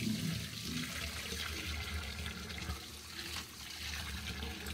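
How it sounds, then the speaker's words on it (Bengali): Rice is washed under running water, a steady continuous splash and flow from a tap, close and moderately quiet with no pauses. "ভালো করে চালটাও ধুয়ে নিচ্ছি।"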